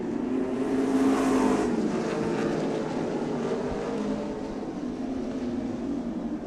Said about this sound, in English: Rick Everidge cruising now, has 6 car length lead over his son Cassten